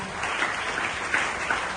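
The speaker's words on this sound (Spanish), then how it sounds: "Den un fuerte aplauso al Señor." A church congregation claps steadily, a dense, sustained round of applause filling the space with no voices above it.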